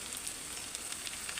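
Bitter gourd pieces and lightly browned onions frying in a pan, a soft, even crackling sizzle that runs continuously and stays faint.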